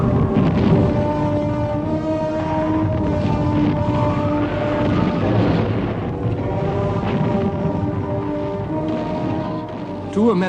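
Low-flying aircraft over a World War I battlefield roar loudly and continuously, the droning engines swelling and fading together with the deep rumble of the fighting for the whole stretch.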